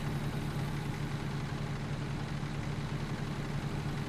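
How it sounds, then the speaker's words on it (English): Truck engine idling in the American Truck Simulator video game, a steady low rumbling drone, close and constant throughout with no voices. "And the sound of the engine."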